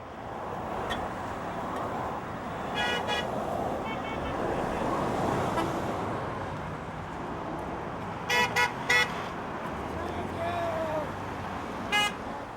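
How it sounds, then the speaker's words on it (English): Car horns honk in short bursts over a steady roar of freeway traffic below, a few toots clustered near the end, with some talking. "the horns honking on the freeway underneath"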